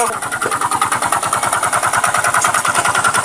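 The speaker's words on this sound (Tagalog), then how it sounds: "gusto ko lang sa inyo ipakita kung ano ang dapat gagawin kapag ganito ang ingay ng motor" A motorcycle engine with a faulty connecting rod idles with a steady, rapid knocking rhythm, a loud mechanical clatter repeating evenly throughout.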